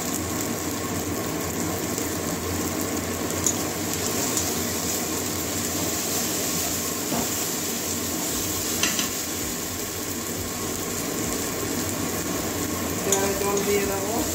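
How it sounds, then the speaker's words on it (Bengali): Spices sauté in a pan with Kashmiri red chilli powder for a Bengali lote fish bhuna, a constant dense sizzle with occasional stirring scrapes, steady throughout. "ভালো করে কষিয়ে নেবো মশলা। এবারে কালারের জন্য কাশ্মীরি লাল লঙ্কার গুঁড়ো দিয়ে দিচ্ছি।"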